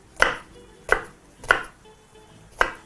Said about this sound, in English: proceed to begin by first chopping up some white onion